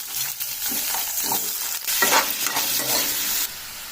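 Eggplants frying in a little oil with green chilies and coriander seeds, a steady close sizzle broken by the scrape and clatter of stirring, with no talking.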